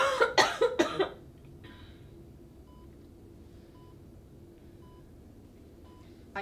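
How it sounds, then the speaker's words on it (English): A burst of several sharp coughs close by, then near silence with a few faint electronic beeps. "And big cough, please."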